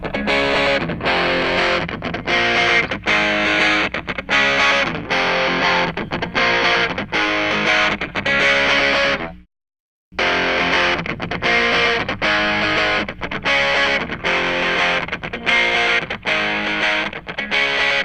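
Distorted electric guitar played through an amp and close-miked at the speaker, with the microphone moved to different spots on the cone, loud chugging riffs in a steady rhythm with one brief silent gap midway before the playing resumes.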